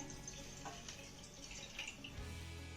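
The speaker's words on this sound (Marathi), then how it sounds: "आता यामध्ये आपल्याला एक ग्लास भर पाणी घालायचं आहे" A glass of water poured into an iron wok (kadhai) on a gas stove, ready for steaming amla: a steady running, splashing stream of water lasting about two seconds, close and moderately loud, with no talk.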